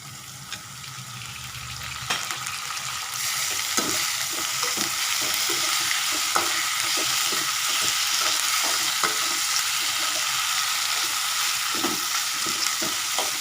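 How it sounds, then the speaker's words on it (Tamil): Onion and tomato sautéing in a pan for prawn thokku, the sizzle swelling louder after a quiet start and continuing with repeated scraping stirs, close and steady. "நல்லா வதங்கட்டுங்க"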